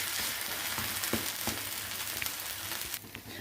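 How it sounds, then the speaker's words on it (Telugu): An onion dosa spiced with dried red chilli sizzles steadily on a hot pan after being flipped, a soft continuous frying hiss with a few faint scrapes and taps, no talking. "ఒకవైపు కాలింది, ఇంకోవైపు తిప్పేసుకుందాం."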